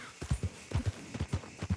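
Horse hooves clip-clopping in Red Dead Redemption 2, a steady paired rhythm of about five close, distinct double hoofbeats at a walk, fairly soft against a quiet background.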